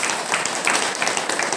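Audience applause welcoming workers at a district-level unorganized labourers' convention held under a construction workers' union banner; dense, steady crowd clapping fills the whole stretch at an even level.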